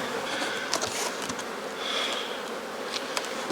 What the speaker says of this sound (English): Yeah, whole lot of bees.